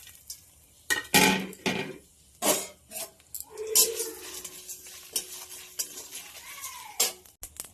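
Spices and dry chillies hit a hot wok with sharp bursts of sizzling, mixed with clanks and scrapes of a spoon stirring against the metal, loud and close with irregular pauses.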